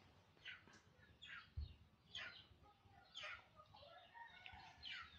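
Several chickens cluck and squawk in short bursts, fairly faint and spread out, with a soft thump partway through.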